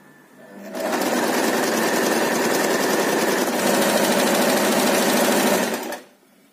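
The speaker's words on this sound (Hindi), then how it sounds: "इतना सा फोल्ड करेंगे और यूं इसको मशीन में एक पैर की मशीन चला लेंगे।" A foot-operated sewing machine stitching folded fabric for a scrappy mat made from old chinos and leftover clothes, running as a loud, close, rapid mechanical chatter for about five seconds before stopping.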